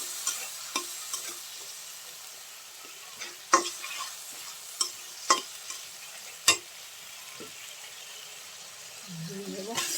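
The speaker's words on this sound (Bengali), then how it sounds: "তাই কচুর ভিতরে এখন ইলিশ মাছের মাথা আর ল্যাঞ্জা দিয়ে ভালো করে লাড়াচাড়া" Hilsa fish head and tail being stirred into taro in a village kitchen pot, giving a quiet background sizzle broken by scattered sharp scraping clicks of the spoon against the pan.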